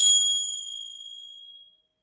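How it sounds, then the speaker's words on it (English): A set of chimes struck once for sound bathing, a bright metallic shimmer of clear high ringing tones that decays steadily over about two seconds and fades to silence, with no voices. "we can do a little bit of sound bathing and we can do a little bit of chimes"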